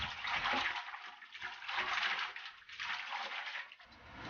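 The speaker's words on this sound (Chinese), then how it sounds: "挑一点比较嫩的、比较粗的折耳根，投入清水中，用清水帮助的清洗干净。" Tender, thick heartleaf (zhe'ergen) roots being washed by hand in a basin of clear water, with steady splashing and sloshing in three or four swelling waves, close and fairly quiet, no talk.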